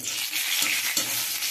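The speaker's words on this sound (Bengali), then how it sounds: "তেজপাতা, একটু শুকনো লঙ্কা আর একটু 5 ফোড়ন ফোড়ন দিচ্ছি।" Bay leaf, dried red chili and Bengali five-spice (panch phoron) crackle in hot oil, a close, busy sizzle with a few sharp pops and a spoon stirring, no voices.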